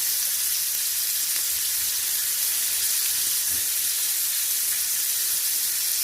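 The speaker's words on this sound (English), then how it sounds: "We're going to throw in our rosemary. Okay. Then let it fry a little bit." Rosemary sizzling in a hot pan alongside a steak, a steady close hiss and crackle of frying fat that holds evenly throughout with no talking.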